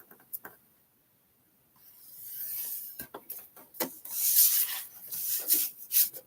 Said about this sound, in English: it says to score the lid, you have to score it 2 6 1/8